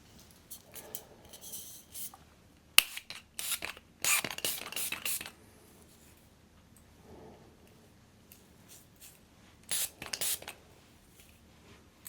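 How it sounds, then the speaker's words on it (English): Several short hissing sprays from a can of hair spray, in a few quick bursts separated by quiet pauses. "So let's spray."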